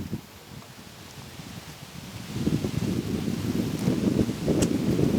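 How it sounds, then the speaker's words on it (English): Wind gusting through trees around a treestand, a soft rush that swells and grows louder halfway through with rustling leaves and some buffeting on the mic, no talking. "it's gusting up here now all of a sudden"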